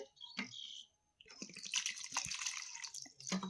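Water splashes and trickles onto tomatoes in a kitchen during tomato pickle preparation, in short bursts separated by brief pauses, fairly close and moderately loud.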